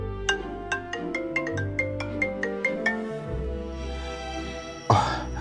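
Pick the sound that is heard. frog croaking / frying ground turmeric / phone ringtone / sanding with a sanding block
phone ringtone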